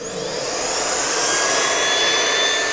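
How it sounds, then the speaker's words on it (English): A vacuum cleaner runs steadily at close range, sucking up dust left after laser engraving, its loud whine holding a constant pitch from start to finish. "Let's go ahead and vacuum the dust up."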